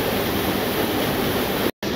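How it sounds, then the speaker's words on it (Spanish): Los Duendes waterfall in Puebla gives a loud, constant roaring wash of falling water, close by. It drops out for a split second near the end. "Esta es la cascada Los Duendes"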